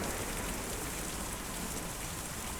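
Steady, dense rain hisses without a break across the whole moment, an even broadband wash of drops in the adventure game Kentucky Route Zero, with no voices over it.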